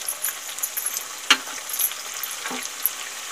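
Chicken browning in a pan with ginger-garlic paste, cumin powder and other spices for butter chicken, frying with a steady close sizzle and two short scraping stirs, no voices.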